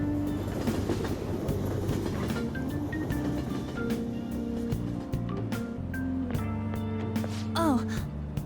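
Train ride in the video game Persona 5 Royal: a steady rumble of a rail car with clickety-clack wheels, soft game chimes and tones, and a brief squeal or gasp near the end, all at a constant moderate level.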